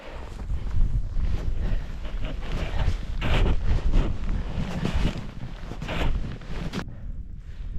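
Cold wind gusts across a microphone outdoors on a freezing mountain climb at about -15°C, a steady roar with buffeting peaks that drops off sharply near the end.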